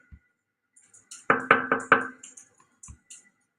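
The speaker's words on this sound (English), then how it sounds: "I drag and drop for the containing the knocking sound" A recorded knocking sound plays back: three firm knocks in quick succession, preceded and followed by a few lighter taps, clear against near silence.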